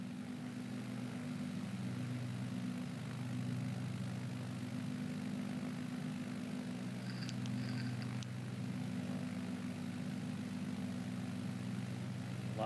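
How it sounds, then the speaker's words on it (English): A slow little propeller airplane's engine drones steadily in Microsoft Flight Simulator 2020 during a bush trip, a constant low hum with a few faint high beeps near the middle and no talking. "It's a slow little airplane, that's for sure."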